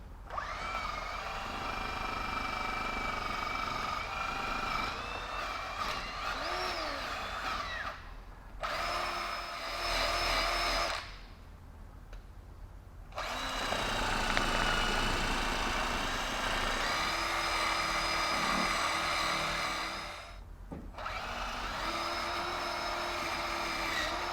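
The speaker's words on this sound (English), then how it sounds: "Let's do a little bit of wire wheel." A wire wheel on a power tool scrapes old material off a 1975 Chevy Vega, a sustained whirring grind that runs in long bursts and drops out briefly between passes, close and fairly loud.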